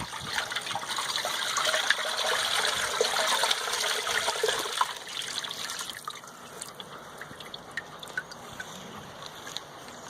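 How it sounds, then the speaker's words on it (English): Water is poured into a pressure cooker while making dog food, giving a continuous splashing, rushing flow that gradually thins to a softer trickle, close by with no voices. "you're going to pour your water in there."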